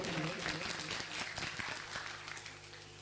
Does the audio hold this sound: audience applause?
yes